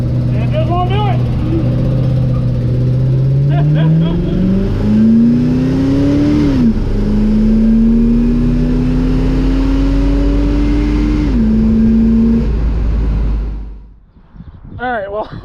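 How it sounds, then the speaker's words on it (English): A race-modified car with 4.10 rear gears accelerates hard but cannot break the tires loose. The engine note climbs steadily through one shift, loud and close, and then drops away near the end. "even with 410s, it still doesn't have enough pep to spin the tires"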